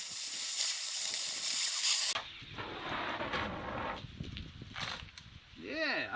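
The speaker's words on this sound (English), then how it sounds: "I'm going to angle my torch towards the solid metal." A torch heating a rear wheel bearing on a 1978 Corvette gives a steady, loud roaring hiss that breaks off partway and returns as softer hissing bursts, with talk over it.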